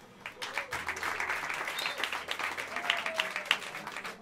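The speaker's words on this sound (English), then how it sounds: "Give us applause for Mr. Victor Pablo on the drums." Applause from a jazz club audience for a drummer, a continuous patter of claps at moderate volume with a whistle or two and murmured voices under it, holding steady to the end.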